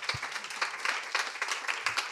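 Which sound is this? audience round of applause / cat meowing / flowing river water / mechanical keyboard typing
audience round of applause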